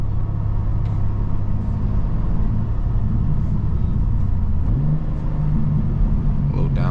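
A BMW M2 engine on a night drive, heard from inside as a steady loud low rumble that shifts pitch upward briefly as it revs on a downshift, with a voice faintly under it.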